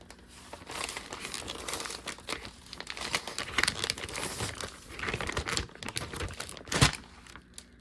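Parchment paper crinkling and rustling steadily while pork belly is bagged in brine for homemade bacon, close and continuous with one sharper crackle near the end, no talk.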